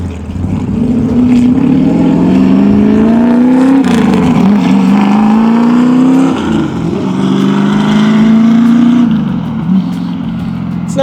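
A loud 1966 Ford Mustang race car, angry and low-toned, revs hard up close, its engine note climbing and dropping in repeated surges that fill the whole stretch.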